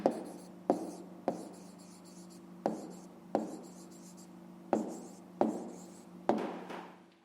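A pen writes an answer by hand on paper for a fifth-grade math exercise, making soft close scratchy strokes with a series of short taps or pen lifts in a quiet room.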